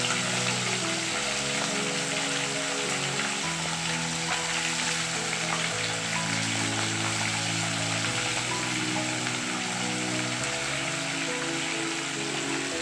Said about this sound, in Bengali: কড়া করে আমি একটু ভেজে নেব।